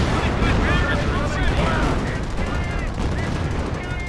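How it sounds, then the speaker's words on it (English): A 25-pounder artillery barrage in the Company of Heroes video game, with dense, continuous booming and crackling gunfire mixed with battle noise, while a voice talks over it throughout. "25-pounder is barraging over here."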